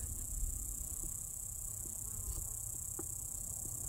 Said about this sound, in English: Looks like we just have a bunch of lazy bees in here.